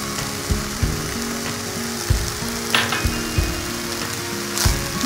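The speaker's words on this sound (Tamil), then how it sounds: "நெக்ஸ்ட்டு வந்து நம்ம சோயா சாஸ் ஊற்றிக்கலாம்." Broccoli fried rice sizzles loudly in a hot pan as soy sauce goes in, a steady frying hiss broken by sharp scraping stirs of a spatula at irregular intervals.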